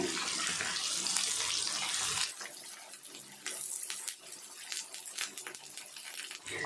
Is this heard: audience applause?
no